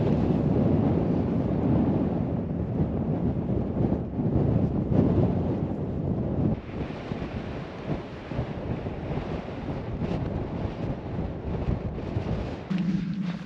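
Cold wind roaring across an exposed Peak District moor in the Dark Peak, a loud, constant rushing buffet against the microphone that eases slightly midway without dropping off.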